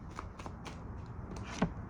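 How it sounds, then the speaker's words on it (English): A tarot deck is shuffled close by, giving a series of soft riffling card flicks at an uneven rhythm, with a slightly sharper snap near the end. "let me shuffle the deck"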